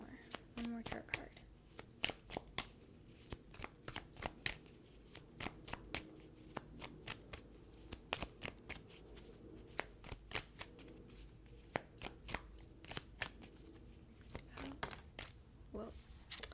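Tarot cards are handled and shuffled continuously, producing a steady run of crisp, close slaps and flicks at an even rhythm with faint rustling between them, no speech over it.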